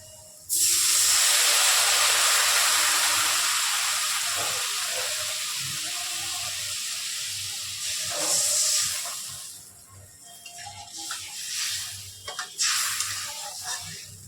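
Water poured into a pan of fried spice paste for a Pabda fish curry erupts into a loud, steady hiss and sizzle that slowly fades, then softer bubbling and a few clinks of stirring follow.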